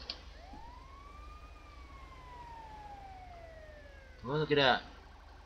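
US Park Rangers ambulance siren in GTA 5, a single long wail sweeping up and slowly down, followed by a brief loud burst of honking; someone speaks briefly over it.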